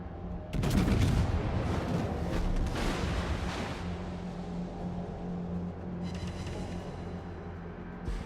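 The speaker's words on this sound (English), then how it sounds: "Alsace giving you a broadside, that'll be handy." Naval battle gunfire in the World of Warships game includes a sudden, heavy salvo of overlapping booms, with further rumbling shots and a steady engine-like drone running beneath.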